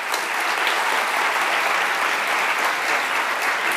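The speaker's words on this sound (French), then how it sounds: "On peut les applaudir d'ailleurs." Steady, dense applause from a large audience for the jury at a fantastic film festival awards night, sustained and even throughout with no voices rising above it.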